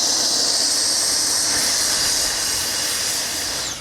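An FMS Rafale 80mm RC jet using reverse thrust to brake after landing gives a loud, steady, broadband turbine roar with a hissing rush, close by, easing slightly toward the end.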